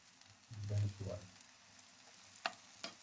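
Eggs frying in a pan during a marathon cooking session give a soft, faint sizzle with a few brief clinks and stirring sounds nearby.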